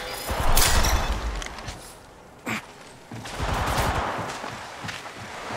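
Video game gunfire sounds in loud rapid bursts, with a sharp single report in the middle and a second sustained volley, close and without talk.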